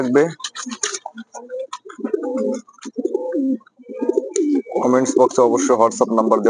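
King pigeons at a pigeon farm coo in low, throaty, rolling phrases, close and fairly loud, with a voice-like stretch near the end overlapping the birds.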